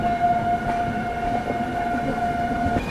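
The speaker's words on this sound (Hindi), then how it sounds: "Dibrugarh new Delhi Rajdhani express." The Dibrugarh–New Delhi Rajdhani Express passing in fog, a continuous low rumble of rolling wheels with a sustained horn-like tone held steadily over it, close and fairly loud, with no voices.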